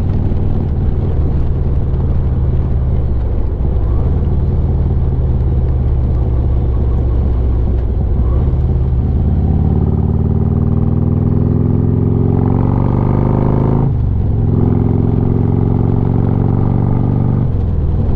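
Motorcycle riding along a road, a steady low engine drone with rising and falling pitch as it accelerates and shifts, loud and continuous with wind rumble, no talking.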